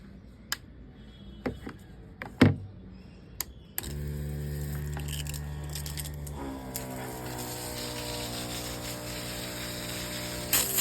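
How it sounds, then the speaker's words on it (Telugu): A hand trigger sprayer mists jeevamrutham, a liquid organic plant tonic, over garden plants: a few sharp mechanical clicks, then a steady close hiss of spraying that runs to the end. "సో ఇది మనం ఇప్పుడు మొక్కలకి స్ప్రే చేసుకుందాం."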